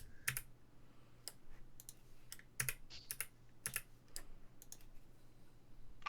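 Computer keyboard keys pressed in scattered single clicks and short bursts, sharp and fairly close but quiet over a faint steady hum, with no talking.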